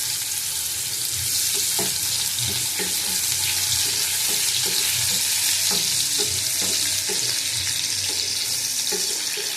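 Chopped onion frying in hot oil for lentil dal, a loud, dense, continuous sizzle close by with a soft, regular tapping of stirring underneath.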